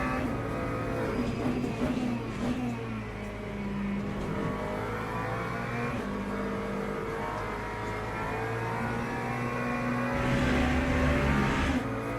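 LMP3 prototype race cars in the sim racing game Le Mans Ultimate, engines droning and revving steadily behind the player's car for the whole stretch, with a brief louder rise near the end; no talking.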